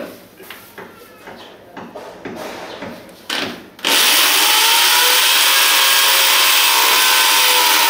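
A loud, steady power drill whine starts abruptly and holds continuously, drilling into wood, preceded by scraping and rubbing sounds on wood.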